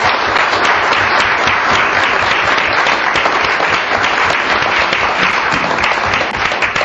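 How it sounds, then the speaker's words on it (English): Applause at a city council meeting honoring city employees, loud sustained clapping from a roomful of people, even and unbroken throughout. "Join me in a round of applause for these employees"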